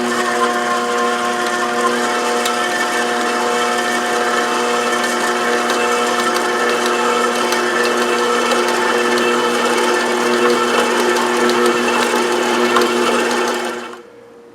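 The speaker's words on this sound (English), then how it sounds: "I'm just using the paddle of the stand mixer just to get it well combined" A stand mixer fitted with the paddle combines a rich, sweet yeast dough, making a steady motor whir and rhythmic churning that stays loud and close for about fourteen seconds and then cuts off.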